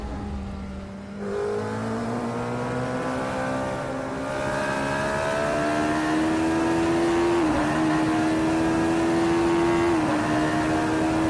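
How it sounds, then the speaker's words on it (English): Radical SR3 race car engines roar during a sim race at Calabogie Motorsports Park, a steady, loud, rising drone that climbs through gears with brief dips at shifts. "The roaring engines are echoing Smells Like We's battle cry."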